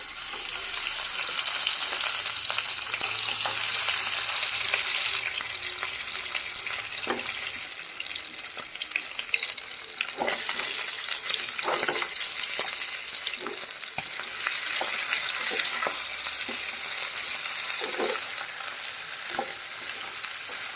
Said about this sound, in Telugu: మనకి ఆయిల్ పూర్తిగా మరిగిన తర్వాత చికెన్ వేసుకుంటున్నాను.